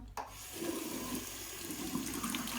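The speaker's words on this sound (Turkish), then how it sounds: "suyu az aç" Water pours steadily from a tap into a sink for a few seconds, a continuous close splashing hiss that follows a brief knock at the start.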